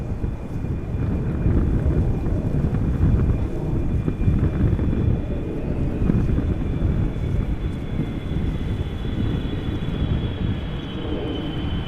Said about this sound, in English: The wind is more or less the same as yesterday.